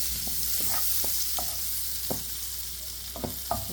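Butter, about a tablespoon, melting and sizzling in a pan for an egg dish, with a steady soft hiss and scattered light clicks of utensil taps, heard alone without talk.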